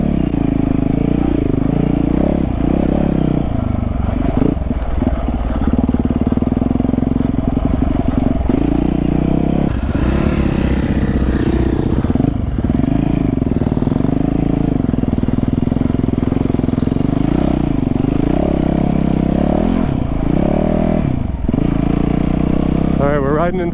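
A 450 dirt bike ridden by a beginner on sand, its engine droning loud and close with rises and falls in pitch as the throttle opens and eases, under wind buffeting.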